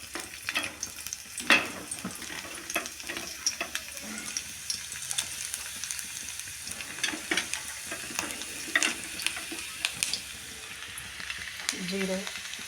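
Garlic frying in oil in a wok (kadhai) crackles and sizzles steadily close by, with sharp spattering pops scattered throughout and a faint voice near the end.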